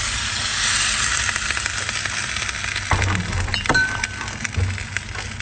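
Vinegar and cooking wine hit a hot wok and sizzle in a constant hissing crackle, close and fairly loud, with a few soft clinks and low thumps from the wok partway through.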